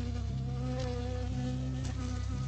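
A bee buzzes steadily and close by in the Firewatch video game, a continuous droning hum that shifts slightly in pitch, with no voices.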